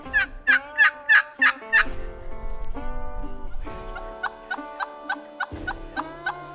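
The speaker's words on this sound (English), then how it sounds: "We've heard a few gobbles and actually had a few close calls with the only turkeys" A wild turkey gobbles loudly and close by, first in a quick run of five rattling bursts, then again in a steady series of shorter calls.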